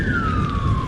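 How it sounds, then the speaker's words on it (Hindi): An ambulance siren wails in one long descending tone, loud and steady, over a dense wash of heavy rain. "पीछे से बहुत तेज बारिश और एम्बुलेंस की आवाज आ रही थी।"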